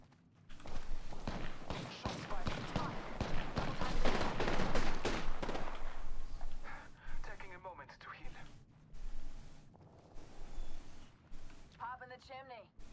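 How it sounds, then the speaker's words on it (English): Gunfire in Fortnite: rapid bursts of shots in the first half, fairly quiet, followed by scattered game sounds and a voice talking. "Shots fired."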